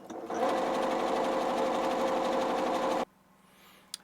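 A Singer Stylist S18 sewing machine runs in a fast, steady mechanical whir for about three seconds, close and loud, then cuts off abruptly into quiet with a faint click near the end.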